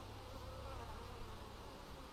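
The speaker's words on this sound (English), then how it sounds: "Lots of bees." Honey bees swarm around a hive frame in a steady, dense buzz that stays even and close throughout, with no voices.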